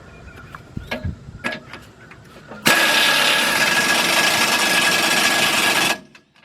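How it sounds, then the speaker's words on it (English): An impact or power tool tightens a bolt on a vehicle shock absorber, a steady loud whirring burst lasting about three seconds after a few faint knocks and clicks, then cutting off abruptly. "Get the bolt in there, start it, tighten that bolt right up."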